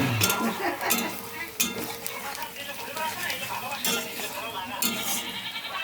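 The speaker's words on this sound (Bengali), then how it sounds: "এখানে আলু, পেঁয়াজ, লঙ্কা, তেজপাতা সব একবারে দিয়ে দিলাম" Potato, onion, chilli and bay leaf fry together in a pan, a hissing sizzle with stirring scrapes, while people talk over it throughout.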